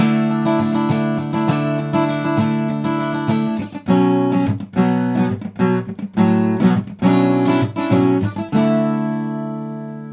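Acoustic guitar plays the fifth chapter of a piece, opening with a long ringing chord that decays, then rhythmic strummed and picked bursts, close and loud, ending on a sustained fading chord.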